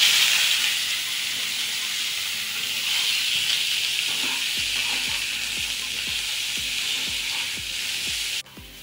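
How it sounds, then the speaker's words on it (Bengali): Potatoes fry in a pan with cumin and browned sugar for dum aloo. A constant bright sizzle and hiss is joined midway by a run of regular soft scraping stirs. "তো এখন আলুটা ভেজে নিচ্ছি লাল লাল করে"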